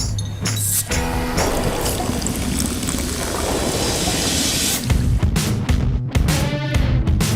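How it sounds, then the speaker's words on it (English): Coke Zero poured into a cup, a steady rushing, fizzing stream of liquid lasting several seconds with a few brief splashy breaks near the end, fairly loud and with no talking. "Even when there was no screen, we poured Coke Zero using just sound."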